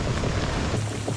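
Rain pours onto the forest off the trail on Réunion island, a dense, even wash of drops that stays steady and fairly close for one brief moment.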